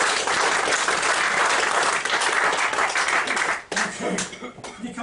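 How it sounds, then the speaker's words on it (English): Audience applause at a live comedy mind-reading show, dense steady clapping that briefly dips, then resumes in scattered claps with voices mixed in. "Give her a round of applause to the audience."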